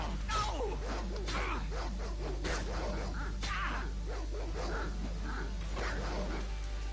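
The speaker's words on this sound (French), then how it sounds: "Oh, encore des chiens à la con là." Dogs barking and yipping in the video game Baldur's Gate, a scattered series of quiet barks and whimpers over a steady low hum of game ambience.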